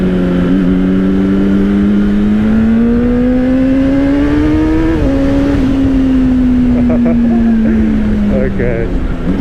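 A 2025 Honda CBR600RR motorcycle engine held at a loud steady idle-to-midrange drone, pitch rising gradually then a quick throttle blip around the middle before easing back down, close and continuous.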